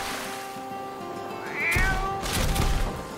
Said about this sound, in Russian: Кто, блядь, мяукал?